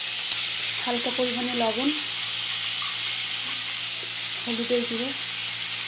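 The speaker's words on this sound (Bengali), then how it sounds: "তেলটা গরম হয়ে গেছে, এবার চিংড়ি মাছটা ভেজে নেব।" Prawns fry in hot oil in a wok, giving a steady, close sizzling hiss throughout while a voice talks over it.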